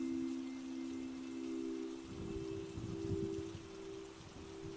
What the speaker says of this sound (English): As you listen to the rain, feel your breath.